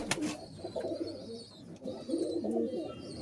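Red Bull pigeons cooing close by in soft, repeated throaty calls, with a faint flutter or click near the start and no talking.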